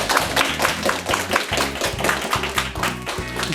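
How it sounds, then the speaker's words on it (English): Audience clapping at a senior show season finale, a steady fast patter of many hands close and loud, with a low rhythmic thumping underneath throughout. "Don't keep clapping, I need to record it."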